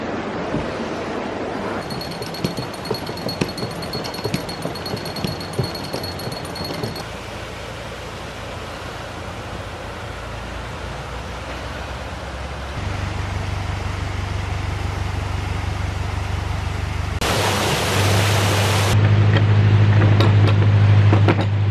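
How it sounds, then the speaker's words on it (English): Water leaks through a canal lock, making a loud, steady rushing wash that fills the whole stretch, with a low mechanical hum joining partway through. "It's a leaky lock, this one."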